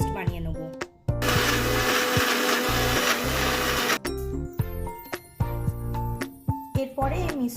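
A mixer grinder blends mustard, poppy seed, green chili and coconut into a paste, roaring in a loud continuous burst and then in short stop-start pulses with rattling between them.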